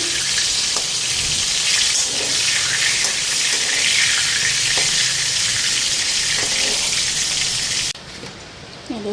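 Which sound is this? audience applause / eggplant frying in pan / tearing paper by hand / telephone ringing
eggplant frying in pan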